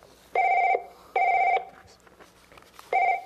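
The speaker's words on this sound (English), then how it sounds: "it looks like you're getting a call on your phone." A telephone rings for an incoming call, three bursts of a steady two-tone electronic bell in a regular pattern with short gaps, loud and close, with no talking over it.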